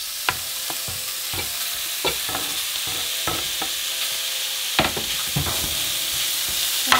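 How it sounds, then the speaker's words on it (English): Bacon frying in a large frying pan over medium-high heat gives a steady crackling sizzle, with sharp pops and spatters scattered across the frying and occasional scraping or stirring knocks, with no talking. "in a large frying pan, I'm going to set it to medium-high heat. I'm just going to wait for that to heat up and then we're going to add in our bacon"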